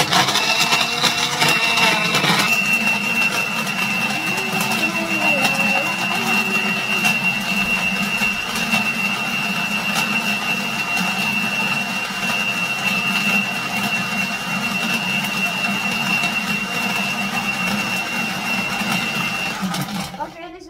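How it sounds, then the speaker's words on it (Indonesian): An electric mixer blends a milk drink, whirring continuously at close range for about twenty seconds with a steady high-pitched motor whine, while someone talks over it. "langsung di mixer ya sayang. Oke, langsung saya nyalakan."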